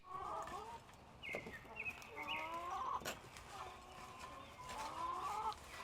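Hens cluck and murmur in a backyard coop, with several close, overlapping clucks and calls over faint background noise.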